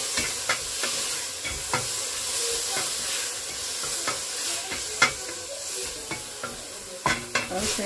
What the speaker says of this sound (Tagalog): Okay, haluin natin si kamatis.